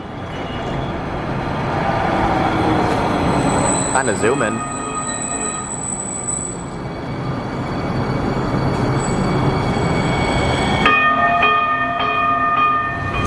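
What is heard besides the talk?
two trains passing at Lincoln Harbor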